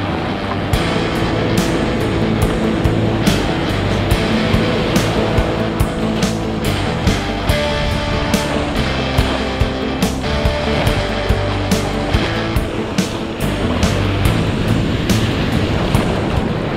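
Ocean waves breaking on a beach near Cascais on a small, easygoing day: a continuous loud wash of surf with scattered sharp crackles, steady throughout and without voices.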